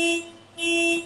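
A car alarm sounds nearby as two loud, steady electronic tones separated by a short dip, with nothing else heard around it.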